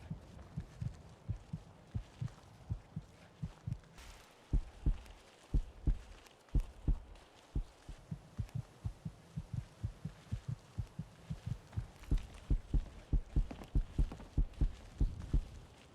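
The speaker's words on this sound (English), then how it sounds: "with this next mod we're going to be replacing said sounds with the better low and critical health heartbeat sound replacer" Low and critical health heartbeat from a Fallout 4 sound replacer mod, a steady double-thump pulse repeating loudly and close throughout with a faint background hum and no speech.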